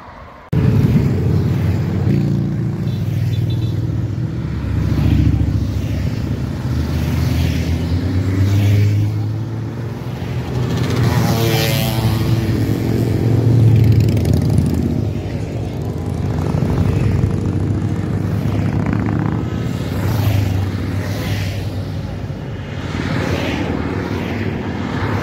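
More than a thousand motorcycles ride past in a charity parade in Esztergom, a loud, unbroken drone of many engines that swells and fades as bikes pass close by.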